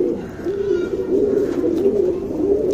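A single male tournament pigeon coos softly and close up, giving a steady low throaty murmur that rolls on for a few seconds.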